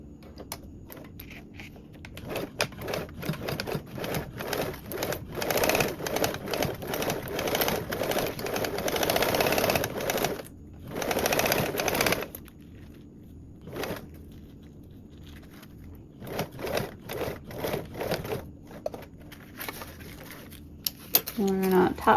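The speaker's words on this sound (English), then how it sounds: "now along this top edge, we're gonna top stitch with a 1/2 inch seam allowance" A sewing machine top stitching along the edge of a duffle bag runs in fast rattling bursts, stopping and restarting several times, close and moderately loud with short pauses between runs.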